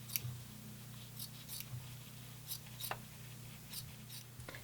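Scissors trim back fabric at the centre front of a wrap-around style bra, giving a few soft, quiet snips spaced irregularly over a low steady hum.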